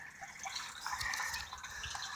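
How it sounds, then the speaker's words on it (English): Water drains through the overflow of a rain barrel, a soft continuous trickle and gurgle with faint splashing, quiet and steady throughout. "The overflow will continue to drain the water out of it, and the tank will continue to drain the water out of the tank until it drops below the drain."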